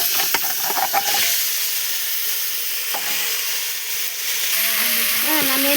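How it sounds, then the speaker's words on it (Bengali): Meat going into a hot pan for an Indian mutton curry, a steady loud sizzle and hiss with a few clattering stirs near the start and some pan noise toward the end. "এখন আমি মাংসটুকু দিয়ে দিলাম।"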